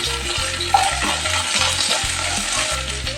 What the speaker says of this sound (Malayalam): വെളിച്ചെണ്ണ നല്ലോണം ചൂടായി വന്നിട്ടുണ്ട് നമുക്ക് നേരത്തെ എരിഞ്ഞു വെച്ച ഇഞ്ചി പച്ചമുളക് ചുള്ളി ഇതിലിട്ട് കൊടുക്കാം